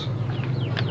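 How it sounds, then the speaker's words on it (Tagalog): Rhode Island Red chickens clucking near the microphone in a rice-field setting, soft overlapping clucks and a few brief higher calls over a steady low background hum. "papakain na natin sa ating mga alagang manok"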